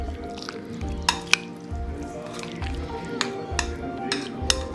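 A chicken shawarma marinade of vinegar, chilli sauce and soy sauce is stirred in a bowl, with wet squelching and sharp clinks of a spoon against the side repeating every second or so.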